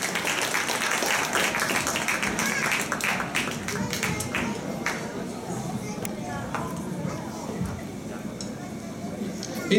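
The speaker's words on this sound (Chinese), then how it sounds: "请各位掌声鼓励" An audience claps for a performer at a music recital, a dense patter of hand claps that gradually thins out, mixed with voices talking.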